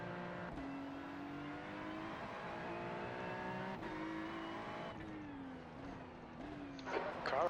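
Race car engine in a GT3 league sim-racing game, droning steadily with shifting revs and gear changes, plus tyre noise building near the end; continuous and fairly close.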